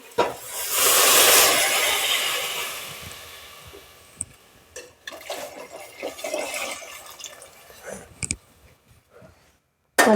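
Hot water is poured into roasted mixed vegetable masala, giving a loud rushing hiss at first that fades into bubbling, spitting and scraping sounds with a few sharp knocks, no talk.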